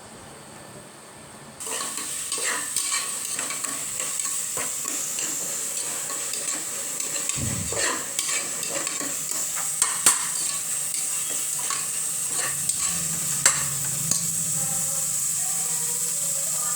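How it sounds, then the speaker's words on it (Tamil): Mushrooms frying and sizzling in a pan for mushroom biryani while being stirred, with a constant loud hiss and repeated scraping and clinking of a spoon against the pan, close up with no talking. "பச்சை வாசனை போகிற வரைக்கும் நல்லா கிண்டி விட்டுக்கோங்க"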